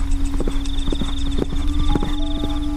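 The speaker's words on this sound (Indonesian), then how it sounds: "yang kudengar adalah langkah kaki tapak kuda." Horse hooves clip-clop in a steady, unhurried walking rhythm, sharp knocks repeating about twice a second over a constant low drone and thin sustained tones.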